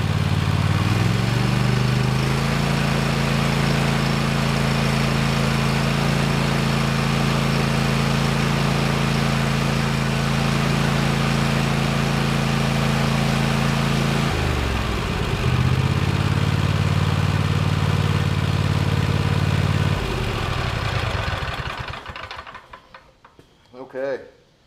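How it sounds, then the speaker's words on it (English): A Cub Cadet XT1 LT46 lawn tractor engine revs up from idle to a loud, steady high drone, dips briefly, returns to speed and finally winds down, with a short clunk at the end. "Now we're going to rev it up."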